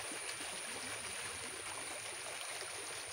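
Water from a small stream flows steadily on its own, a soft, continuous babbling and trickling heard close by.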